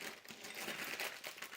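Small plastic bag holding assembly parts for a rolling mobile TV cart stand, crinkled and handled close up in a brief burst of continuous crackling.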